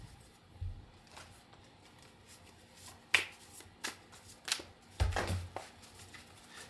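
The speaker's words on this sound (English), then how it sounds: "So as I just shuffled, a few cards fell out." Tarot cards being shuffled by hand, faint and close, with soft scattered riffles and a few sharper flicks and slaps as cards slip out, quiet room otherwise.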